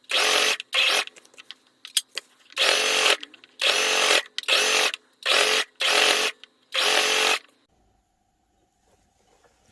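A sewing machine runs in seven short bursts of steady, close stitching as a fabric strip is sewn over an existing seam on capri ankle hems, with brief pauses between bursts and quiet at the end.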